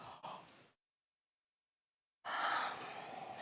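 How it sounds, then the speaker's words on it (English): A deep, breathy yawn drawn in through the soft palate during a guided stretching practice, a close sighing exhale that breaks into silence before a longer airy breath resumes. "Let's take a big yawn through the soft palate"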